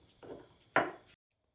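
Cinnamon being ground by hand for a fire purification ritual: two short, close scraping crunches, the second sharper and louder, then near silence.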